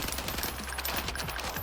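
Rapid automatic fire from an STG rifle in the video game Warzone, a dense burst of sharp shots with no talking, close and steady through the short stretch.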